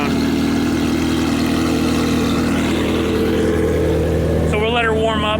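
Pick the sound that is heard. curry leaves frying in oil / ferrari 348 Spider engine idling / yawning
ferrari 348 Spider engine idling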